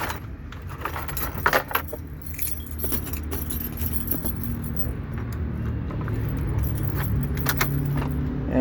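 Keys jangle and clink in the ignition of an Isuzu NMR truck in short bursts over a low, steady cab rumble, close and fairly quiet.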